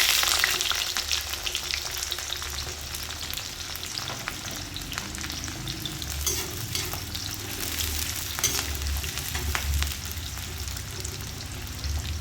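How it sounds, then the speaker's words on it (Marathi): Bean pods frying in oil for Gujarati undhiyu, a soft continuous sizzle with occasional stirring, fairly faint and without talk. "शेंगा पण छान 5 मिनिटं तळून घ्यायच्या आहेत"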